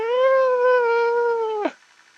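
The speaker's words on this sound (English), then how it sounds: "it's like a ghostly howl." Eerie creature in the Sons of the Forest video game lets out one long, sustained tonal howl that holds steady, then cuts off abruptly, loud and close with no talk.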